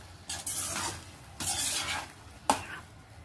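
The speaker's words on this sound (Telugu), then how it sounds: "ఇప్పుడు దీన్ని బాగా కలిపెట్టేసుకుందాం" Eggs being stirred into fried tomatoes in a pan, scraping stirring strokes in three bursts with soft sizzling underneath and a sharp clink near the end, close and fairly quiet.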